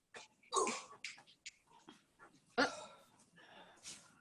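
A mostly corgi dog whimpers and breathes in a handful of short, close bursts, with quieter snuffling gaps between them and no talk.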